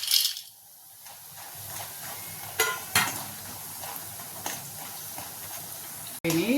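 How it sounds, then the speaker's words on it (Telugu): Minapa vadiyalu, black gram dumplings, frying in hot oil: a steady, fine sizzle runs throughout, broken by a few sharp knocks and scrapes from stirring. "ఇప్పుడు కొంచెం కొంచెం వేసుకుంటా ఫ్రై చేసుకుందాం."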